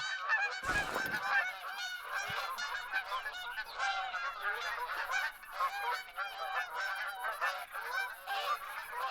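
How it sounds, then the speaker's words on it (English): A flock of geese in theHunter: Call of the Wild keeps up a continuous chorus of overlapping honks, steady and moderately distant, opening with a brief sharp thump, with no voices. "No, and there's more goose calls."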